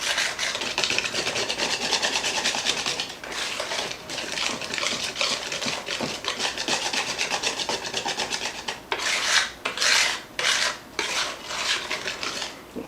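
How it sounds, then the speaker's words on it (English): A whisk beats carrot cake batter with flour in a mixing bowl, producing continuous close scraping and rubbing strokes against the bowl that briefly turn into quicker, choppy bursts near the end, with no talk. "I'm going to switch to a whisk real quick. I just want to make sure that the flour's,"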